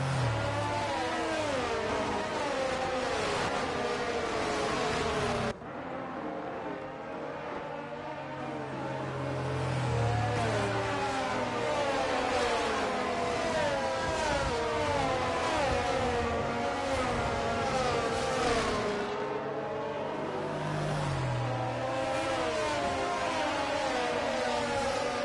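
Engine of a safety car in a racing video game, a steady mid-pitched drone with shifting revs and gear changes, loud and continuous with several cars audible over about 25 seconds.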